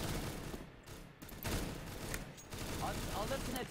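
Rapid gunfire rattles through a round of CS:GO JailBreak as players shoot at a heavily armoured target, with dense overlapping bursts throughout and excited voices talking underneath.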